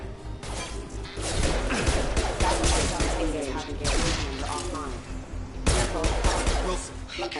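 Gunfire in a PS4 shooter game, a chaotic mix of shots, crashes and impacts in bursts, with game voices speaking over the din.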